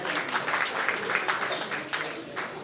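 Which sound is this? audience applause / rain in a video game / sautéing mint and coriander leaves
audience applause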